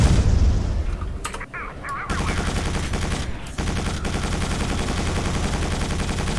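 Missiles and gunfire in the shooter game Quake 4 form a dense, nonstop barrage of blasts and rapid shots, loud and close throughout, with brief dips between volleys.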